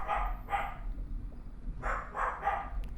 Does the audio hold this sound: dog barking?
yes